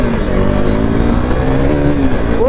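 A KTM RC390 motorcycle engine drones loudly while riding, holding a steady pitch, then rising sharply as it revs near the end, with wind noise throughout.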